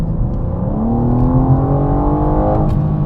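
BMW M4 Competition engine accelerating, heard from inside the cabin with active sound and OPF fitted: a steady, loud, rising engine drone with climbing harmonics over about three seconds, no talk.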